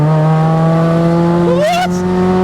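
A Mk5 Ford Fiesta Zetec S fitted with a swapped-in 1.7L Puma engine holds a steady, loud engine drone while accelerating, with a brief higher-pitched rising whine near the end.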